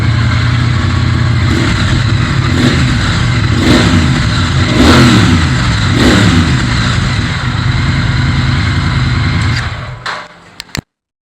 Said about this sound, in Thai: เดี๋ยวเรามาฟังเสียงท่อกันต่อครับ